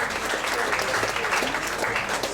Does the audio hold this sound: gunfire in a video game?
no